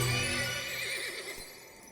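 A horse mount in the video game Heroes of the Storm lets out a loud, wavering whinny that fades over about two seconds, with faint jingling tack under it.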